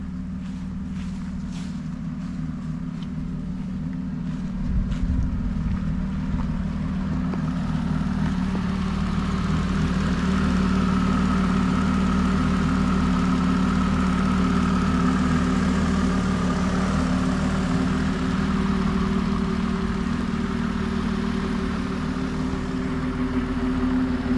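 A car's engine idles nearby with a steady low hum, starting quieter among a few faint clicks before settling into a louder, constant drone that holds to the end.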